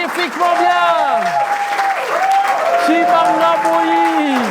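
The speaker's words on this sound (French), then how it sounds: "Est-ce qu'on peut applaudir magnifiquement bien" An audience at a school competition show semi-final claps steadily and loudly, mixed with cheering and ululating voices throughout.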